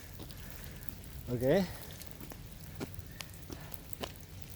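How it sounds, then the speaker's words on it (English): Light rain starting to fall outdoors, heard as faint, scattered patter and drips throughout, with a brief spoken word near the middle. "Yeah, started to rain."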